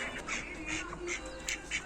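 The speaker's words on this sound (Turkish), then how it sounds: "yeşil başlı ördeklerimiz" Several mallard ducks quack in short repeated bursts at a moderate distance on a farm in Kayseri, fairly quiet, with soft outdoor background noise and no speech.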